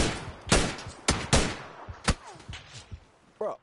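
Enemy gunfire in the battle royale shooter PUBG, several sharp loud shots spaced irregularly over a few seconds, some sounding close and others farther off, with faint game noises between them.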